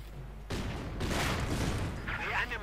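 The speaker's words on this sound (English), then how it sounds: "The enemy is attempting Grenade barrages there." Explosions from a grenade barrage in Company of Heroes 2 erupt in a burst of loud, rumbling blasts and crackling fire through the second half, following a quieter start.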